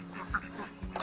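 Ducks quack in short bursts at a dirty backyard duck hut, a few nasal calls close by with some faint background voice.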